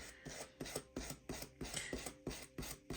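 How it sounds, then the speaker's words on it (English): A Dremel attachment dragged repeatedly across balsa wood to scratch in a wood grain texture for a garden railway kit, making close, rhythmic rasping strokes about every third of a second. "I'm then using this part off the Dremel and I'm dragging it along the surface of the balsa wood"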